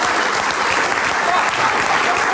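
A comedy club audience claps in a short, steady burst of dense applause, loud and continuous throughout, with faint voices mixed in.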